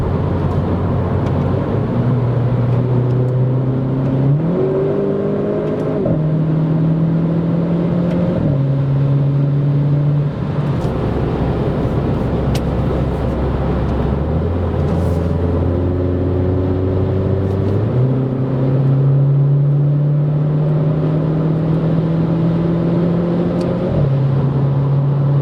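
A Renault Clio R.S. 220 EDC Trophy engine revs up loudly and close, rising in pitch through repeated stepped paddle gear shifts, each shift dropping the tone before it climbs again, steady and without speech.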